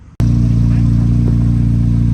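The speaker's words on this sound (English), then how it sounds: "you can hear that flat plane crank running right now" A C8 Corvette Z06 flat-plane crank engine idles loudly and close by, a steady low rumble with an even pulsing beat throughout.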